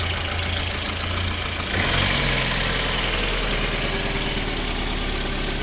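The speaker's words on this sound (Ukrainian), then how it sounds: "Шумний мотор, звісно, поршня гремлять, але їздить" A VAZ 21099 engine idles close by with audible rattling from worn pistons, a steady mechanical clatter and hum that shifts slightly partway through and then holds even, with no voices.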